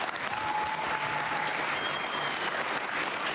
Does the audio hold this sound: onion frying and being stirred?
no